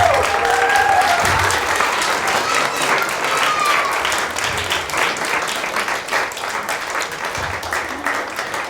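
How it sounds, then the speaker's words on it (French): A live concert crowd claps in loud, sustained applause that fills the room and slowly tapers, with a voice briefly audible beneath it. "On peut les applaudir."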